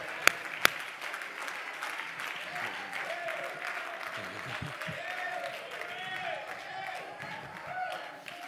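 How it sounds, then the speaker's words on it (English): A church congregation claps hands in praise during a Sunday morning service, a steady mid-level wash of clapping with voices and shouts mixed in, after two sharp loud claps near the start. "Clap your hands and give God praise."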